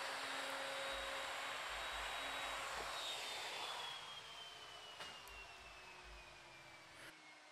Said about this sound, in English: with a simple plunge router, you can do so much with a plunge router